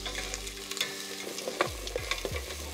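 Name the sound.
onions sautéing in oil in camp pans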